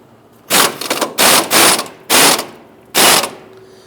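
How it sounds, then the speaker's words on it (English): An impact tool with a 19mm socket loosens the lower strut nut on a 2000-2006 Toyota Tundra, firing five loud, close rattling bursts of about half a second each, separated by short pauses. "Using a 19mm socket, we want to loosen and remove the nut on the lower portion of our strut assembly."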